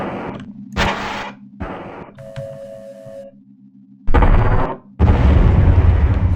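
Fireball spell in the game Spellbinder: The Nexus Conflict, loud booming explosion bursts with a rumbling low end, separated by quieter tonal game effects and hum.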